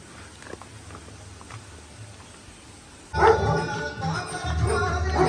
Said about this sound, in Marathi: कुत्र्याचा आवाज ऐकून प्रियंकाची हवा डायरेक्ट